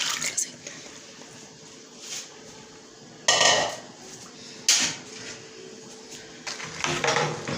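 Washed peas are tipped into a pot of water in a kitchen, a few splashy pouring bursts and clattering rattles between quieter stretches, close by with no talk.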